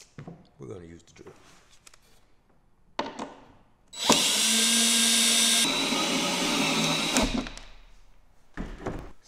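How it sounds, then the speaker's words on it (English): A power drill whirs loudly and steadily for a few seconds, changing pitch as it drives a screw into a wall anchor, with a person talking before and after. "We're gonna use the drill."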